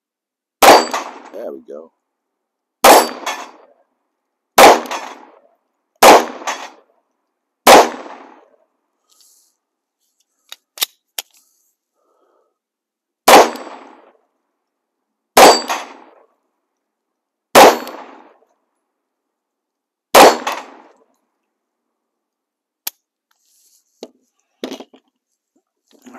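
A Yugo M-57 pistol fires at an outdoor range, about ten sharp shots in uneven groups, each followed by a short metallic ring from steel target plates, with brief talk and faint clicks between volleys.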